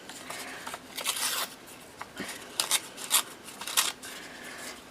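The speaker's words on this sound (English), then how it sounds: "Just rip it a little bit more." Paper ripped by hand while embellishing a journal, a few short tearing bursts in irregular rhythm with quiet pauses between, close and fairly soft.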